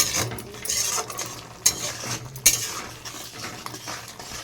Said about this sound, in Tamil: மஞ்சள் தூள் ஆட் பண்ணிக்கலாச்சு நல்லா மிக்ஸ் பண்ணி வைக்கலாம்